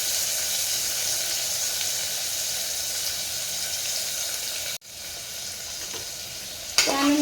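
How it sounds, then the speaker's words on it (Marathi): Finely chopped onion frying in a pan for chicken gravy, a loud continuous sizzle with a brief dropout near the end and a stirring scrape after it. "त्यानंतर कांदा व्यवस्थित परतून घ्यायचा आहे"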